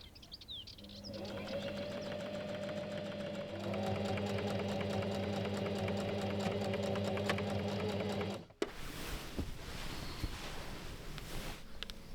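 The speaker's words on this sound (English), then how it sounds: "sew a straight stitch with 1 cm seam allowance along the edge" A sewing machine runs a straight-stitch seam with a 1 cm allowance along a fabric edge in a steady, close mechanical hum that shifts pitch partway through, then cuts off abruptly, leaving quiet room noise and faint bird chirps.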